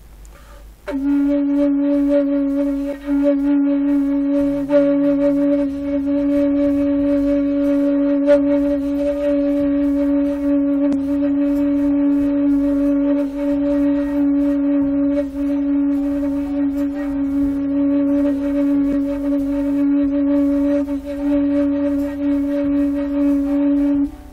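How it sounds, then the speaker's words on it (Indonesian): A breathy saluang bamboo flute, a traditional Indonesian instrument, is played with circular breathing, holding a steady, unbroken tone with no pauses for breath, sustained loud and close for over twenty seconds. "Itu teknik manyisi angok ya dalam permainan musik tradisional saluang"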